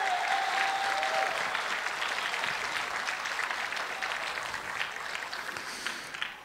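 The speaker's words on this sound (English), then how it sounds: "Let's give them a round of applause." An audience at a welcome and keynote event gives teachers and mentors a round of applause, steady crowd clapping that slowly fades over several seconds with no talk.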